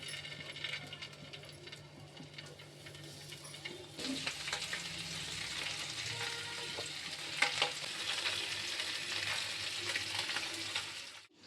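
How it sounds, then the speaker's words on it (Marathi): Crispy mandeli fish frying in hot oil, a steady sizzle that turns suddenly louder and denser partway through as more fish goes in, with small clinks and stirring noises on top and no talking. "बनवणार आहोत क्रिस्पी मांदेली फ्राय आणि हे कांट्या पण आहेत सोबत घेतलेल्या, त्यासोबत त्यामध्ये तळणार आहोत"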